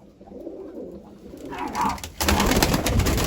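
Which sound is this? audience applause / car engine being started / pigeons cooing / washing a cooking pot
pigeons cooing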